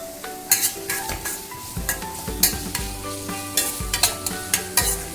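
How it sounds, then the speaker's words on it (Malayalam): Chopped onion sautéing in a pan with half a spoon of salt, with a steady sizzle and repeated scraping stirs of a spoon against the pan at an irregular rhythm, close and fairly loud, with no talking. "ഉള്ളി നന്നായിട്ട് വഴണ്ടി കിട്ടാൻ വേണ്ടി ഒരു 1/2 സ്പൂൺ ഉപ്പിട്ട് കൊടുക്കാം നമുക്ക്."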